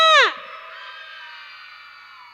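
Women in a live event audience let out a loud, high shared cheer lasting a fraction of a second, which quickly falls away into a faint lingering crowd murmur and room ring.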